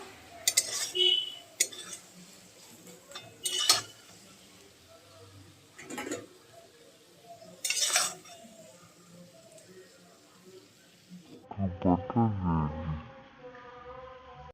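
A metal utensil scrapes and clinks against a pan in short, separated bursts while mashed pointed gourd paste is lifted out, followed by a denser rattle of cookware near the end; close and moderately quiet.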